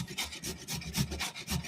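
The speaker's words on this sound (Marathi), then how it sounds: "इथे आपण हळद किसतोय, हळद किसून घेणार आहोत." Raw turmeric root is grated by hand for a pickle, producing close, rhythmic rasping strokes, about five scrapes in quick succession with short pauses between them, with no voices.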